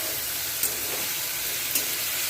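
Bitter gourd slices fry in a pan with salt and turmeric, giving a steady close sizzle with faint crackles and two brief louder pops.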